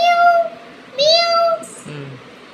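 A voice imitates a cat, giving two drawn-out meows in a row, close and clear, followed by a short lower vocal sound.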